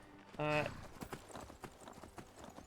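A horse in Skyrim clip-clops along with a short run of quick hoof steps, preceded by a brief tonal game sound, while someone talks over it.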